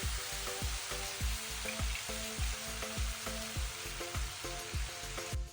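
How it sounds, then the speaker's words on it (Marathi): Soya chunks frying lightly in a pan give a steady close sizzle, with regular stirring scrapes returning roughly every half second. "त्याला हलकी फ्राय करून घ्यायचं."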